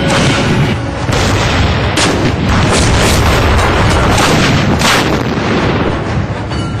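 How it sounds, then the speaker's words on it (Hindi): Bofors 155 mm long-barrel howitzer firing: a dense, loud barrage of heavy booms and blasts rolling continuously, close and overlapping without pause. "155 mm लंबी बैरल वाली ये तोप एक मिनट में 10 गोले दागने की ताकत"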